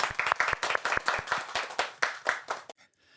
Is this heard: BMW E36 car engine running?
no